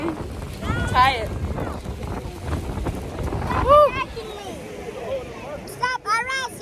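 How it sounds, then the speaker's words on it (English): Strong wind gusts buffet the microphone outdoors near water, a steady low rumble with occasional surges, while several people talk over it throughout. "the wind is strong"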